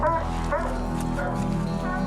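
Hunting dogs out in the northern wilderness yip and whimper excitedly, the high cries coming close and repeated over a constant low engine-like hum.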